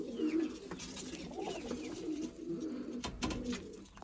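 Pigeons coo softly in a loft, low rolling calls repeating close by over a faint background hum.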